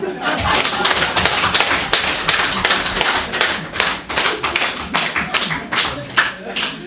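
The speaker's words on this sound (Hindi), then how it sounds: "तो आप सभी के लिए तालियां।" Participants at a water-supply operation and maintenance training clap in a dense, continuous round that stays close and loud for the whole stretch, with voices talking and laughing underneath.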